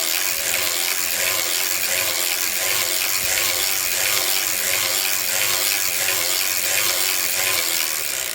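A hand-cranked circular sock machine turns in a steady, rapid ratcheting clatter of needles and gears, loud and close, continuing without pause and with no talk.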